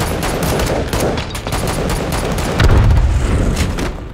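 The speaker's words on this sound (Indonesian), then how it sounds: "Demetrius segera membantu si teman yang tengah terlibat aksi tembak-tembakan dengan para mafia" Rapid gunfire in an action film gunfight with mafia smugglers, dense overlapping shots and bursts crackling continuously, with a heavier boom near the end, loud and up front.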